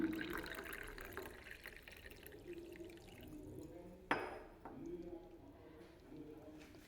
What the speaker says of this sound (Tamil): 3 இதழ் மட்டும் இந்த டம்ளரில் போட்டிருக்கேங்க. இதில் சுடு தண்ணி ஊற்றிக்கலாம்.